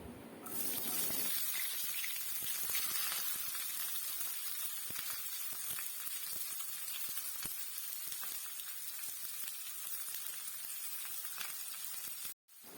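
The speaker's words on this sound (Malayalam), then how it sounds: "നമ്മൾ അരിഞ്ഞു വെച്ചിരിക്കുന്ന സവാള ഇതിലേക്ക് ചേർത്ത് നന്നായിട്ടൊന്ന് വഴറ്റിയെടുക്കാം" Chopped onions sautéing in hot oil with fenugreek for a fish curry, a steady dense sizzle close up, running loud and even with no voices, cutting out briefly near the end.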